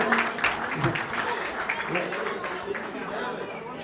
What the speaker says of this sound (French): Applaudissez Marie-Claude Barré.